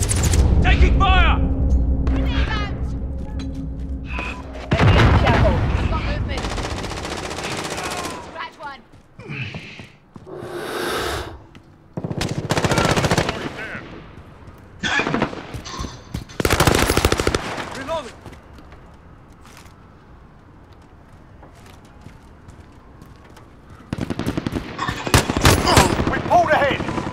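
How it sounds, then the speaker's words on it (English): Call of Duty Modern Warfare gunfight: loud bursts of automatic fire and heavy booms come in separate clusters broken by quieter gaps, with a player's voice talking among them. "Taking fire."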